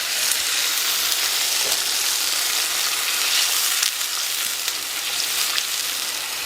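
Meatballs frying in a pan with water just added, giving a steady, loud, broadband sizzle and hiss that holds evenly throughout with no talking.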